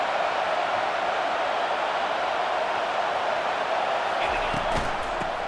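Crowd noise from a college football video game: a packed stadium sends up a continuous, even roar that stays loud while the home defense takes the field, with a few sharper thumps near the end.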